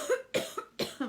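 A woman gives a quick series of four short, sharp coughs, close and fairly quiet, with brief pauses between them.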